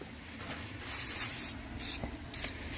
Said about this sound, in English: You can see I'm not super tactical with spraying on Simple Green